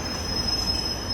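A high, steady metallic squeal from the wheels of a London Underground Metropolitan line heritage train, sustained over a low rumble of the running train, loud and continuous throughout.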